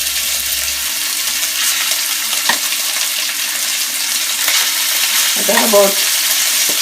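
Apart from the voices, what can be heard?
meat browning in a pan with vegetable oil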